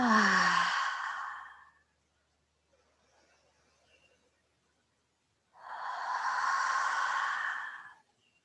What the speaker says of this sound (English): Take 3 deep breaths, aligning you to your center this morning.